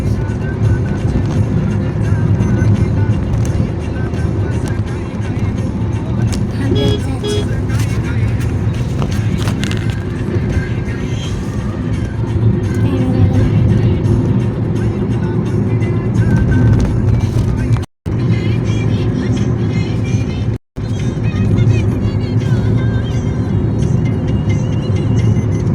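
Steady road and engine roar from a Toyota car cruising on the Mumbai-Pune expressway, continuous and loud inside the cabin, with two brief dropouts near the end; voices talk intermittently over the drone.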